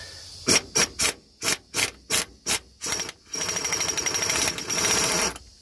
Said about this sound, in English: I guess I'm gonna use the impact